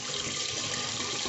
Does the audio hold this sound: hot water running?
yes